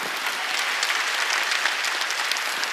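A church congregation applauds during a Sunday worship service, a dense, loud, sustained clapping from a large crowd that fills the whole moment without any speech over it.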